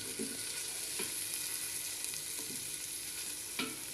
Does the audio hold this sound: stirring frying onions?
yes